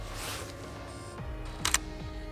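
A camera shutter fires once during a mountain panorama shoot outdoors, a brief sharp mechanical click over quiet background hum.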